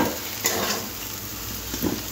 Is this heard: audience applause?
no